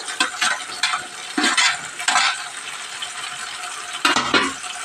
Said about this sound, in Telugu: ఇప్పుడైతే టమాటా పండ్లు అయితే వేసేద్దామండి